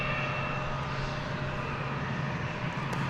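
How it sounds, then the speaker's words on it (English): American Airlines Airbus A321 airliner in America West heritage livery at Dallas Fort Worth airport, heading to San Diego: a steady, loud engine roar and whine held evenly throughout, with no talking. "This is going to San Diego. It's an Airbus A321."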